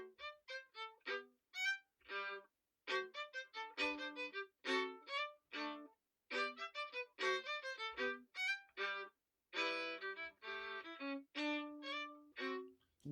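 A violin plays a simple Suzuki Book One tune in short, clearly separated bowed phrases, each note distinct, with brief gaps between the phrases.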